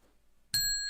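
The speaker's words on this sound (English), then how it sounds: "We have a cliche bell as well that goes off when I drop one." A single bright bell ding rings out suddenly and sustains with clear ringing overtones, a cliche notification-style bell sound effect played alone after near silence.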